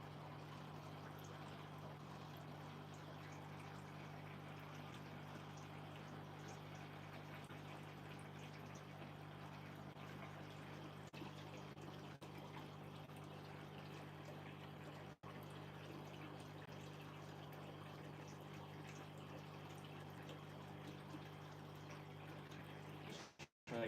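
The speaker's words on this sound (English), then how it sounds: "Just going to change water on this tank." Water splashing and pouring steadily during a water change on a home aquarium fish tank, with a constant pump-like hum underneath; the sound runs continuously for the whole stretch at low level, with no talking.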